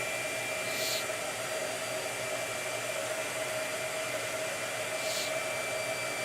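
Blow dryer running at an art table: a steady, loud, unbroken whirring hum that stays at one pitch throughout, with no talking.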